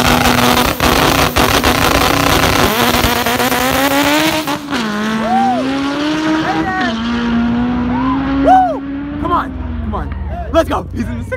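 A 1000 hp Honda Civic hatchback with a 72 mm precision single turbo at a drag race, its engine screaming at high revs, then pitch rising through gear shifts as it pulls away, loud with crowd voices and shouting over it.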